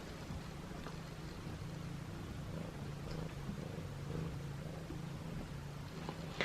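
A cat purring close up, a low continuous rumbling drone that stays steady throughout.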